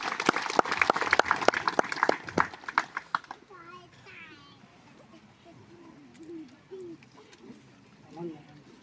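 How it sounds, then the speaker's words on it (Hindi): A group of people claps hands at a parish celebration in a village, a loud burst of brisk clapping that stops after about three seconds, followed by quiet murmuring voices. "ताली मारो।"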